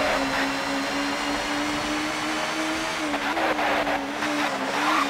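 Race cars run around the circuit at Silverstone in the TOCA Touring Car Championship video game, with a steady engine drone and a constant hum running throughout, plus faint surges as cars pass nearby.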